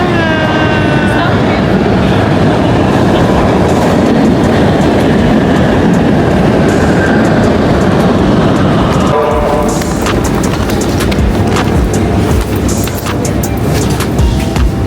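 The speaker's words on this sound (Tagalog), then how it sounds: "Waiting for our train." A train rumbles and clatters loudly into an Oslo station, with squealing brake tones near the start and sharper rattling clanks in the later seconds.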